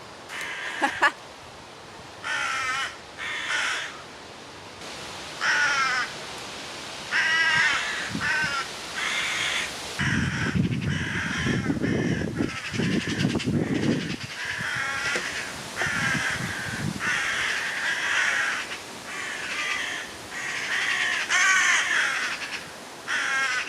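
Crows cawing repeatedly and loudly, harsh calls in quick bursts overlapping one another, with a low rumbling noise midway through.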